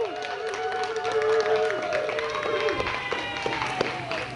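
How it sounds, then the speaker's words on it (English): Audience applause at an honors convocation, a steady wash of clapping filling the room with some voices mixed in. "Can I have your round of applause for our Belle in Motion, Miss Penny Spees?"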